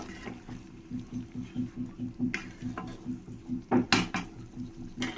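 A spoon scrapes rhythmically around a pan as fried prawns are stirred into a Bengali-style malai curry, giving a steady scraping pulse with a few sharper metallic clinks near the end.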